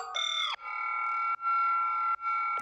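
A synth sounds through a vocoder with heavy distortion drive, giving sustained, buzzy, harmonically rich tones in several held chord-like segments, each cutting off abruptly before the next starts.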